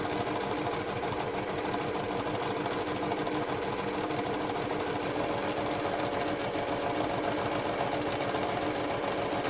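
Sewing machine with a quarter-inch foot stitching a quilt block, its needle chattering in a fast, even, continuous run throughout, close and clear with no talking.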